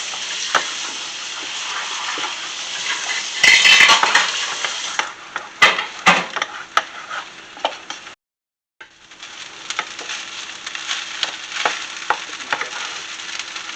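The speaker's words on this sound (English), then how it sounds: "we're going to scramble these real quick in our pan with our rice" Eggs being scrambled together with rice in a hot pan for homemade fried rice, a steady close sizzle and frying hiss with scraping stirs and utensil clinks against the pan, a brief pause midway, no talking.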